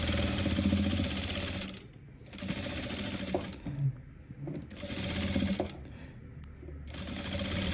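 A sewing machine runs in several long bursts stitching plush fabric for a memorial teddy bear, close and loud, with short pauses between seams.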